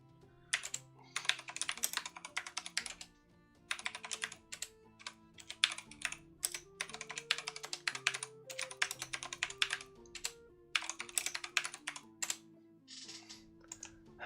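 Someone types on a computer keyboard at close range in quick bursts of clattering keystrokes with brief pauses between them, steady and clear, with no talking.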